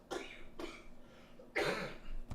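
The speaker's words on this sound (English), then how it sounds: "that's why I started coughing" Three harsh coughs sound close by, the last one heaviest and most forceful, with short pauses between them.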